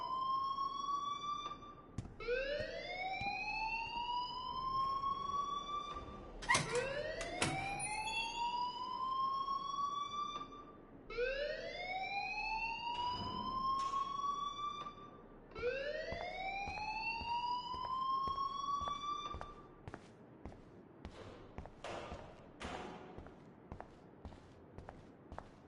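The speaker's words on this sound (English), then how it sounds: "please turn off that alarm since that's your job" An electronic alarm in the video game Life is Strange wails in repeated rising sweeps, about five cycles, steady and insistent with scattered footsteps and clatter underneath, no speech.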